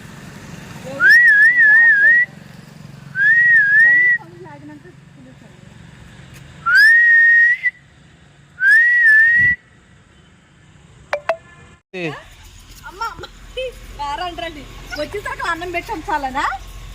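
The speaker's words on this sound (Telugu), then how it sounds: "ఎంతసేపు విజిల్ ఎత్తే కానీ వీళ్ళు రాలేదు" A person whistles to call dogs at feeding time, several loud, rising two-tone whistle bursts in sequence near the mic, followed by a voice and background chatter.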